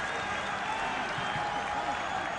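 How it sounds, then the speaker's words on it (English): A stadium crowd at a Sydney FC versus Central Coast A-League grand final applauds a substituted Sydney FC player, a dense, continuous wash of distant clapping and cheering heard under a commentator's voice. "And a big round of applause for Mark Rudin."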